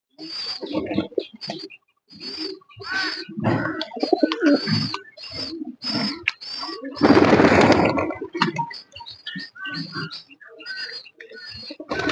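Pigeons cooing, with a young pigeon nearby, heard as a run of short, low coos in bursts, close up, mixed with rustling and one louder scuffling moment partway through.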